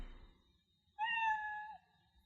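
The Scratch cat sprite's built-in meow plays once, a short, bright, clean tonal mew against near silence, faint overall.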